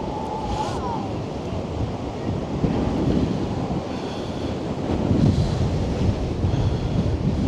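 Stormy, choppy sea surf churning under strong 70mph wind gusts on the Blackpool seafront, a continuous loud roar of breaking waves and buffeting wind across the microphone with no talk.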